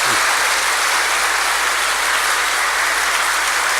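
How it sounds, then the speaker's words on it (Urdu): An audience at a chand raat naat mehfil in Multan claps steadily, a loud, unbroken wash of many hands with no voices over it. "اب میری تالی بجاؤ نا تھوڑی"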